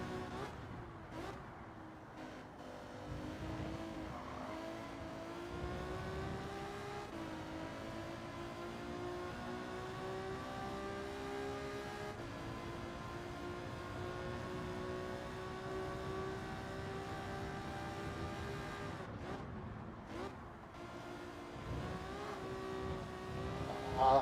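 A Subaru WRX race car engine in Gran Turismo 7 drones and climbs steadily through the gears, its pitch rising in long sweeps with brief dips between shifts, loud and continuous with no voices.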